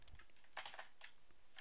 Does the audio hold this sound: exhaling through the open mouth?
no